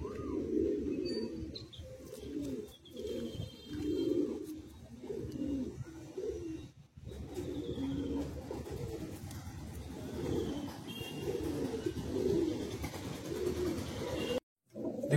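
Andhra Pradesh Madrasi pigeons, Kalsira high flyers, coo repeatedly in soft, low rolling bursts, close and fairly quiet, with faint chirps and distant traffic behind.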